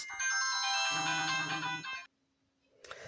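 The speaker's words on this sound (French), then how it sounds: "désolée, c'était le téléphone" A telephone ringtone plays a bright, repeating melodic chime loudly and close for about two seconds, then stops abruptly, in a quiet room during a cross-stitch embroidery session.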